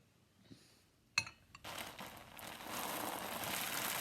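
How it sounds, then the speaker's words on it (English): Steady rain begins after a few faint clicks and a sharp tap, building into a continuous hiss of drops on a surface that holds to the end. "Well, it appears to be raining."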